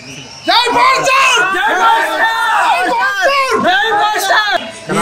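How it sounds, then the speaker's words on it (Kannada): A large crowd of film fans celebrates outside a cinema in Bellary, with loud overlapping voices, cheers and whoops filling the scene close by. "ಇಲ್ಲಿ ಫುಲ್ಲು ಕ್ರೌಡ್ ಜಾಸ್ತಿ ಆಗಿಬಿಟ್ಟದೆ"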